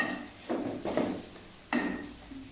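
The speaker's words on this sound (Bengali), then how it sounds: "মাংস দিয়ে দিলাম, মশলাটা মাংসের সঙ্গে কষিয়ে দিচ্ছি।" Chicken pieces are stir-fried with spices in a pan, heard as several scraping, clattering stirs with soft sizzling between them, close and fairly quiet, with no talking.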